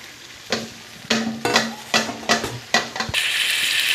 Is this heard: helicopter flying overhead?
no